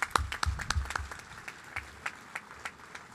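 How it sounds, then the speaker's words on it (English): A short burst of applause from an audience at an outdoor topping-off ceremony, a few sharp claps at first, then thinning to scattered, fading handclaps. "Please give them a round of applause."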